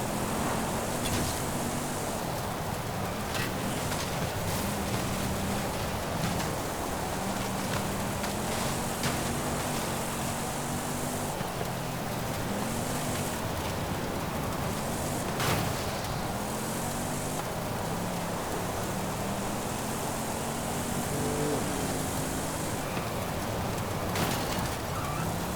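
A V8 engine in a Fast X car-pack car with a three-speed gearbox in the Forza Horizon 5 racing game, droning and revving toward 7,000 RPM under a dense, steady wash of road and wind noise.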